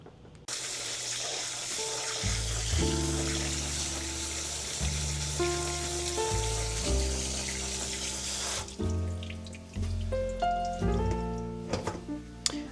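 Water running from a sink tap while quinoa is rinsed in a strainer, a continuous splashing stream under changing musical tones, with a steady watery hiss throughout.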